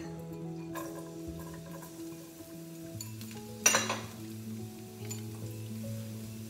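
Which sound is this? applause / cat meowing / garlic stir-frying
garlic stir-frying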